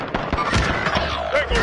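A grenade goes off in a Call of Duty match amid a burst of sharp gunfire cracks and booms, loud and close, with several rapid impacts packed into under two seconds.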